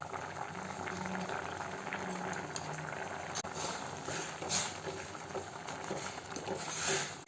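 Fig curry with horse gram at a gentle boil, soft continuous bubbling and popping close by, fairly quiet and steady with a slight swell near the end, no voices.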